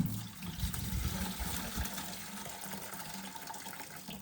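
Fuel sloshing inside the gas tank of an abandoned Honda CT70 as it is shaken, a close, rumbling liquid wash that is strongest at first and then settles into a steadier swirl, with no talking.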